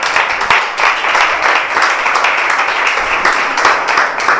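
Church congregation clapping together to acclaim the Lord at a youth weekend service, steady rhythmic hand claps filling the room at a lively pace, close and loud, with faint voices mixed in.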